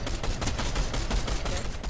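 Dense, continuous gunfire from a video game firefight, with rapid overlapping shots and bursts running steadily for the whole two seconds with no pause.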